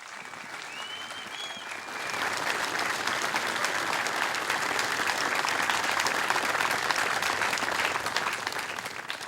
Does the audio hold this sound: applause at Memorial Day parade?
yes